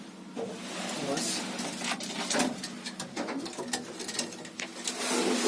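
Pigeons coo softly and repeatedly nearby in winter, with rustling and fluttering movement and a person speaking intermittently.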